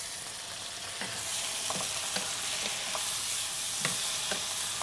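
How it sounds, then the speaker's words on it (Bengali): 500 grams of boneless beef sautés with onion in mustard oil, a bright continuous sizzle that swells slightly after the first second, with periodic spatula taps and scrapes up close and no talking. "পেঁয়াজের সাথে আমরা বিফটাকে সতে করছি"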